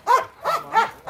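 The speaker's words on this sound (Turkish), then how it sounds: "Bu da hamile bir köpeğimiz." A pregnant dog makes three short, high whining yelps in an even rhythm, close to the microphone, with no talking over them.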